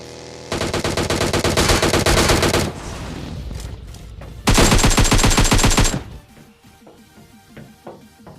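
A DP gun in a shooter video game fires two long, loud bursts of rapid automatic shots, separated by a short pause. A few faint clicks follow once the firing stops.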